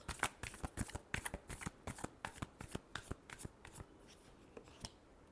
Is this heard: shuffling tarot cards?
yes